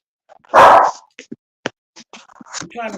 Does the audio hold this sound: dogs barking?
yes